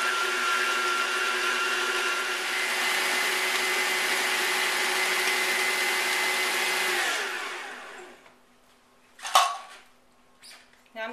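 Electric mixer whirs steadily through cheesecake filling in a bowl for about seven seconds, then winds down and stops, followed by a few clinks and knocks of utensils against the bowl.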